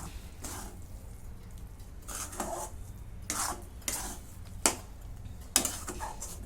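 Jaggery and coconut mixture for gul khobra vadi being stirred in a pan on a low gas flame, a faint soft scraping with a few sharper clinks of the spoon against the pan.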